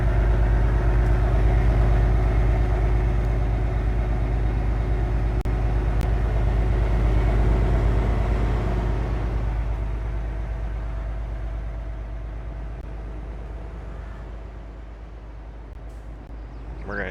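A tractor engine in Farming Simulator 22 idles with a steady low rumble, loud at first and then quieter and more distant for the last several seconds.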